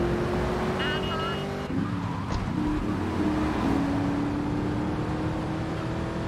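An old car driving in GTA 3 Definitive Edition, a steady engine drone with a faint rising tone under a continuous road rumble, with a brief shift partway through.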